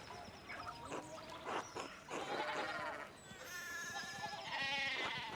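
Sheep bleat in a video game farm scene, with several high, wavering bleats in the second half over a busy mix of game sounds.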